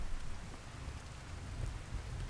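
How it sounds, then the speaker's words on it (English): Steady rain falling in the video game Skyrim, a continuous dense hiss with low rumble, fairly faint and with no speech. "It's like only raining over there."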